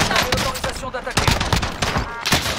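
Call of Duty gunfire crackles in rapid, irregular bursts of loud, close shots that overlap one another, with a voice speaking briefly among them.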